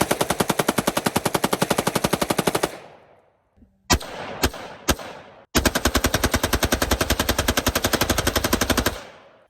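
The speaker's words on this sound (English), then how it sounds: "And now, super safe, or what I call full semi-auto." Rapid full-auto-style bursts from an AR-15 fitted with a Hoffman Tactical Super Safety: a long, loud burst of closely spaced shots, a brief gap with a few separate sharp reports, then another sustained rapid burst, all close and without talk.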